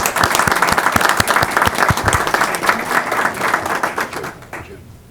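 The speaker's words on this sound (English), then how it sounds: "And again, we applaud everyone." Applause from the audience at a county board of education meeting, a steady wash of clapping from a seated crowd that carries on for several seconds before thinning out and fading at the end.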